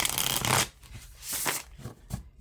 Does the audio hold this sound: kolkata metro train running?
no